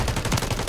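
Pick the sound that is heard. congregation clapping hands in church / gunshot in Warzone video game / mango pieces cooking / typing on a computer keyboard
gunshot in Warzone video game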